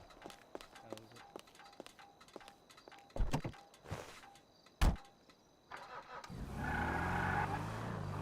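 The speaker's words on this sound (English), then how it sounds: "Let me just put this car away first." In the game Hoarding Simulator, a car is driven and parked: scattered soft clicks and a few sharp thuds, then the engine swells into a steady rumble near the end, all fairly quiet.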